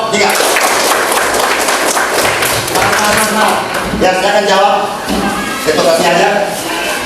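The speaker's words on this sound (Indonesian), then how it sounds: "Tepuk tangan buat kelompok" Classroom group applause during a lesson presentation, loud close clapping from students mixed with shuffling and chatter throughout.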